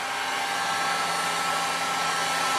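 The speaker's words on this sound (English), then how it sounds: "I'm just getting a bit of hot air up into that hole that I drilled just to dry it all out so that the glue bonds." A heat gun blows hot air into a drilled hole to dry glue on a stone-set gold pendant: a steady, loud, unbroken rushing hiss that holds constant throughout with no talk.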